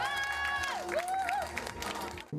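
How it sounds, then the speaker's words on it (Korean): Audience applause at a televised Korean award ceremony as a restaurant wins the food category grand prize, a short burst of clapping and cheering mixed with a sustained voice or tone. "박수 드립니다"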